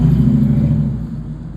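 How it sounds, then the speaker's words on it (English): Busy street traffic, a steady low rumble of car engines with a passing vehicle that fades slightly toward the end; no voices. "The street is busy."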